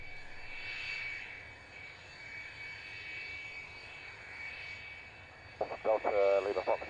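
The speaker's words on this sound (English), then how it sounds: "What an aircraft." A fixed-wing aircraft engine drones steadily at moderate distance, swelling and easing slightly, with radio-style voices cutting in near the end.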